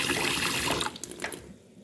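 Tap water splashes steadily into a sink as Grace rice is rinsed, a loud wash of running water that breaks into irregular splashes and trickles toward the end.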